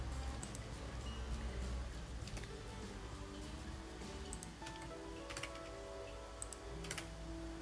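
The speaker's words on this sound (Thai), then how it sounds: "พิมพ์ชื่อ พิมพ์โรงเรียน พิมพ์ รางวัลที่ได้นะครับ แล้วก็ พิมพ์กิจกรรมการแข่งขันนะครับ" Keys clatter on a computer keyboard as certificate details are entered, a faint, irregular run of light taps and clicks over a low steady hum, with no talk.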